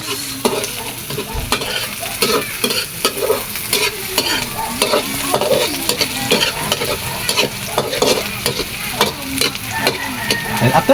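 Onion, ginger and spring onion are stirred in a frying pan, with steady sizzling under repeated scraping strokes of a utensil against the pan, close and clear with no talk.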